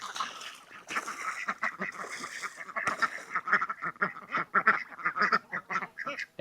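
A dense flock of geese and other farm fowl on pasture calling nonstop, harsh honks and quacks overlapping in quick succession, loud and close throughout.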